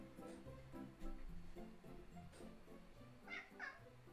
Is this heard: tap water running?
no